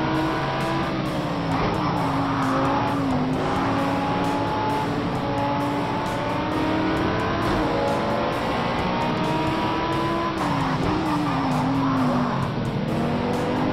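A race car in the driving game Project Cars 2 keeps its engine revving hard and loud through rising and falling gear changes, while tires squeal and skid through the corners without a break.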